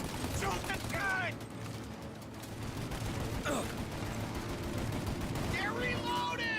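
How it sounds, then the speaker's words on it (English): Sustained gunfire from a gunfight in Mafia: The Definitive Edition, dense bursts rattling over a continuous roar, with brief shouted voices breaking through in a few spots. "Shoot out your gun when there's a break in the fire!"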